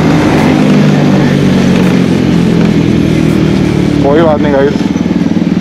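Motorcycle engine running at full power on a Kullu–Manali ride, a loud steady drone throughout with a brief rising rev near the end, as someone talks over it.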